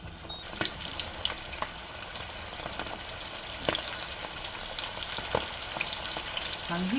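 Chicken wings crackle and sizzle in hot oil, a dense steady frying hiss with scattered sharp pops, close by and without talk.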